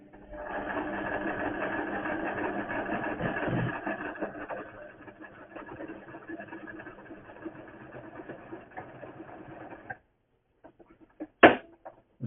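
A simple domestic sewing machine runs steadily while stitching fabric held under tension, a continuous close mechanical whirr for about ten seconds, then it stops, leaving a few faint handling clicks and one sharp snap near the end.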